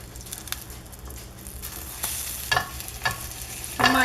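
Cauliflower and spinach tortilla batter cooks in a pan with a soft, steady sizzle, broken by a few brief scraping or stirring sounds that grow louder toward the end.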